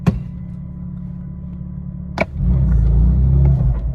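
BMW M2 engine idling steadily, then a sharp blip and a deeper, louder rev held at raised revs, close and uninterrupted.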